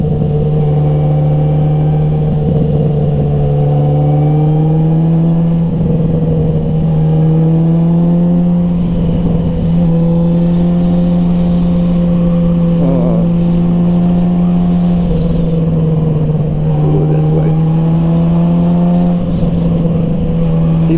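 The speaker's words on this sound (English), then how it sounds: "I don't have to give it too much throttle for it to pick up and go." A 1000cc sport motorcycle engine hums loud and steady throughout, its pitch wavering up and down as the rider works the throttle on the road, with no talking over it.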